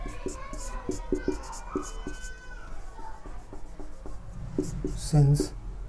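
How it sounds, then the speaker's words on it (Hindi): Handwriting during a biology lecture: pen or marker scratches in short rhythmic strokes across a board or page, close and clear, with a voice talking intermittently over the writing. "चलो मैं लिखता हूँ"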